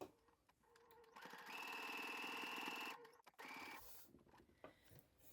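A sewing machine runs a straight stitch through thick cord fabric, whirring steadily and close for about two seconds, then a shorter burst follows after a brief stop, with no voice over it.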